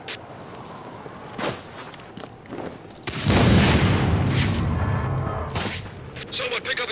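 Frag grenades explode in Batman Arkham Origins gameplay: a loud, deep blast is followed by several seconds of heavy rumbling debris, with a second sharp burst in the tail and faint background sounds before it.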